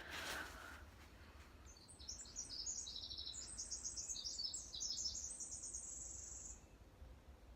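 A bird sings outdoors in a series of high, quick, bright chirping phrases that tumble together, moderately near against a quiet background hum.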